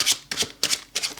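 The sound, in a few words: shuffling tarot cards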